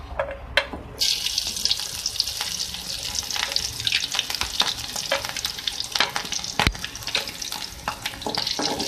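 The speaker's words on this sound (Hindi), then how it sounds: "ऑयल में आपने डालने हरी मिर्चें जो हमने काट ली थी।" Chopped green chillies fry in hot oil for a dal masala, giving a steady sizzle with scattered stirring clinks and scrapes throughout, close and fairly loud.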